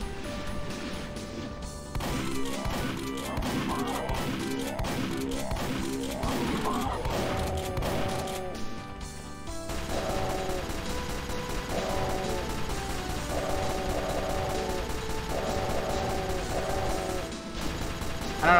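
A weapon firing in the Doom II level "Reliable Excavation Demolition", rapid loud mechanical bursts that run continuously over game music with a steady rhythmic cycling.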